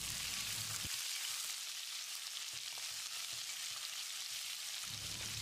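Chopped cabbage sautéing in a hot pan for cabbage rava upma, heard as a steady close sizzle and crackle with a few soft stirring knocks, continuous and fairly quiet, with no talking.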